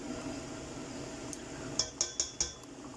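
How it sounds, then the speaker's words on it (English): A spoon or utensil knocks against a metal pot while stirring a boiling stew of pork ribs, chorizo, lentils and potatoes: four sharp clinks in quick succession near the end, over a faint steady background hum. "it's been here boiling on full heat for nearly 10 minutes, so I thought that I would give it a stir"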